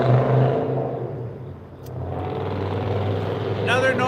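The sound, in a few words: noisy car passing by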